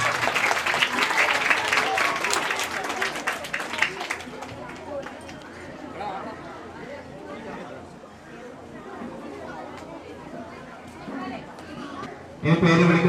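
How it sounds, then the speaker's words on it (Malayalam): Applause from a crowd at a primary school award ceremony, loud dense clapping at first that fades into a murmur of chatter and talking, then a fresh burst of clapping at the end. "വലിയൊരു ക്ലാപ്പ് കൊടുക്കുക എല്ലാവരും"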